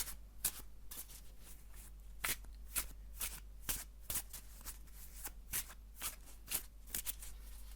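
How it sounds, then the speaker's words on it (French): Playing cards being shuffled for a game of rummy, a steady run of quick riffling bursts repeating about every half second, close and crisp over a faint low hum, with no talking. "Alors je mélange, mais au rami il faut jamais mélanger."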